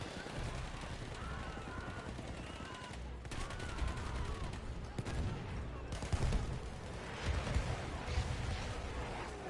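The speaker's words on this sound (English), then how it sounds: "Some artillery coming in" Artillery and gunfire in a multiplayer first-person shooter match, with booming impacts and scattered shots rolling through at steady loudness and a few heavier blasts near the end, under ongoing voice commentary.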